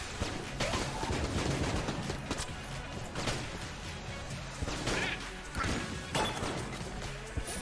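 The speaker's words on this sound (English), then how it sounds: "Look at all those explosions." Dense bursts of explosions and gunfire in the video game Enter the Gungeon, loud overlapping blasts and crashes repeating rapidly across the whole stretch.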